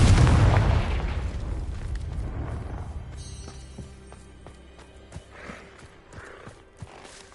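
A Confringo blast spell in Hogwarts Legacy near a Thestral nest: a loud booming explosion at the start that rumbles and decays into scattered softer pops and thuds.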